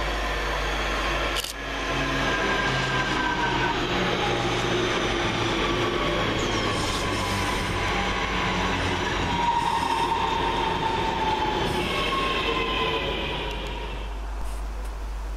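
A GB Railfreight Class 66 freight train rumbles steadily through Lea Green station, wheels clattering and occasionally squealing on the rails, loud and close for the whole stretch.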